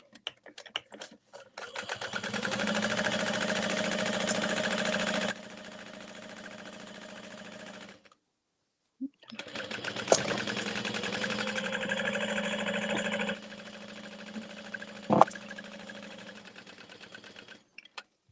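A sewing machine set to a long stitch length of about 5 runs in steady bursts while stitching a fabric tote bag, humming and rattling close up, with a brief pause midway and a sharp clack near the end.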